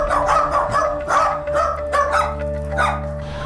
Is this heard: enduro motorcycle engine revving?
no